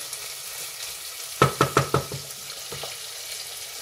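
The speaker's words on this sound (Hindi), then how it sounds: "अब मैं प्याज डालती हूँ।" Onions frying in a pan for an aloo arvi dish, with a soft steady sizzle and a quick burst of four sharp stirring knocks, then two fainter taps.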